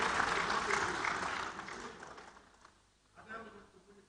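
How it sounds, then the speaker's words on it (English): Applause from a conference audience fills the room as a dense wash of clapping that fades away over a few seconds, with a voice speaking briefly near the end. "A big round of applause for them, ladies and gentlemen."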